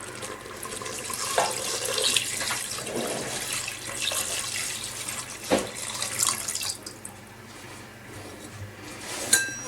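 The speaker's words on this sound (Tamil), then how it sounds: "பிரியாணிக்கு தேவையான தண்ணி சேர்த்தாச்சு." Water pours steadily into a pot of Thalappakatti-style chicken biryani, a continuous splashing flow for several seconds that thins out toward the end, with a few light clinks.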